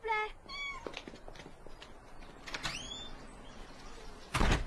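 A cat gives a clear meow at the start and another later, amid creaks and mechanical sliding noises in a quiet room, ending with a sharp loud clatter.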